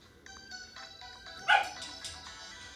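A dog barks a few times in the video game Terraria, short electronic tones running under it and a louder bark-like burst near the middle.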